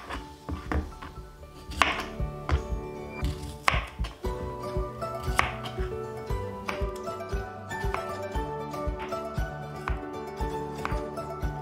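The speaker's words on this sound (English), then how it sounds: "Now we cut and slice into small pieces." A knife chops cucumber into small pieces on a cutting board in quick, irregular taps, some louder knocks at first, then a steady close rhythm with faint clinks.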